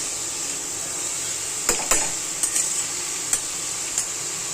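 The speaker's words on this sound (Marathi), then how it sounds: "हा चांगला हे तुपामध्ये ना फ्राय होऊन द्यायचा" Carrots fry in ghee with a constant bright hiss, broken by a handful of sharp spatula taps and scrapes against the pan, close and fairly loud.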